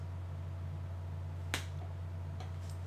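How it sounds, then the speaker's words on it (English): A single sharp slap of a hand against a face lands once, brief and close, over a quiet steady background hum. "That was the sound of me facepalming."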